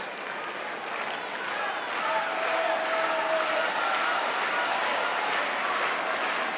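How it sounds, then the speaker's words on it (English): Wrestling fans in an arena applaud steadily through a Hacksaw Butch Reed vs Marty Lunde bout, a dense, even wash of clapping with faint crowd noise, a little distant, swelling slightly after the first couple of seconds. "You hear the applause in the background"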